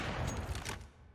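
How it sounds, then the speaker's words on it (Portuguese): A quick burst of rapid gunfire in CS:GO rattles loudly during a professional match, then tails off into a short echoing decay. "Opa, errou o disparo agora."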